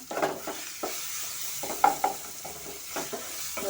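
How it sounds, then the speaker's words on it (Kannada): Ginger-garlic paste and masala for mushroom biryani frying on medium flame, a steady soft sizzle broken by scraping stirs and a few spoon knocks against the pan. "ಮೀಡಿಯಂ ಫ್ಲೇಮಲ್ಲಿ ನಾವು ಫ್ರೈ ಮಾಡ್ಕೊಳ್ಳೋಣ"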